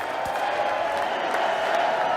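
Crowd noise in the chamber at a State of the Union address, a dense steady wash of clapping and murmuring voices held at an even level throughout, with no single voice standing out.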